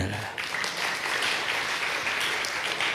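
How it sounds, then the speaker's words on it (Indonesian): A crowd applauds steadily at a church sermon in Indonesia, dense clapping running loud and continuous from start to end with no pause. "Tepuk tangan."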